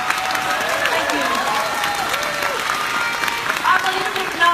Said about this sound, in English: let's give me a very big hand of applause